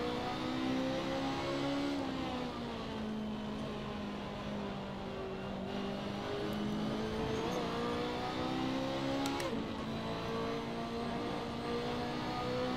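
A BMW race car's engine in the Assetto Corsa racing game at Road America, a steady droning roar that rises and dips in pitch through gear changes and throttle shifts, with brief clicks and a sharp downshift blip, no talking.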